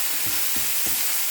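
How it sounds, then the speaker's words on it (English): Green peas and garlic sizzle steadily in a hot pan, a loud, continuous frying hiss punctuated by three soft, regular stirring scrapes; no voices. "Then add the green pea and continue cooking for 1 minute."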